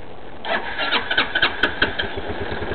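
260cc scooter engine sputtering as the throttle is blipped, uneven rev bursts that stumble and cut out rather than climbing, close by with no talk.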